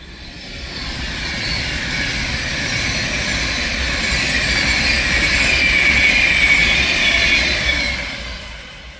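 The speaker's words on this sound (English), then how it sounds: "the next train to disturb the peace is going to be a 390 Pendolino going from Northampton to Manchester Piccadilly" A Class 390 Pendolino electric train passes at Heaton Chapel on the West Coast Main Line Manchester branch, a sustained rushing roar with wheel and rail noise that swells toward the middle and fades at the end, no talk.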